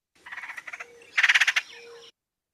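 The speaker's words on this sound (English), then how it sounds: "They also produce like this really chuckly rattle call, usually done in flight, but not always." A bird gives a chuckly rattle call, two bursts of rapid pulsed notes, the second louder and denser, close and clear against a quiet outdoor background.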